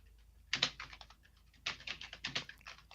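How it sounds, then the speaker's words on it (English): Computer keyboard typing in short bursts of rapid key clicks, fairly faint and close, with a brief pause between two flurries and no talking. "I think the ghost of Judy, he's typing right now to the people in the chat"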